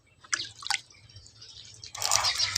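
Water splashing and dripping during a cold morning bath, a few short splashes early then a louder, steadier pour near the end, close by with no talk.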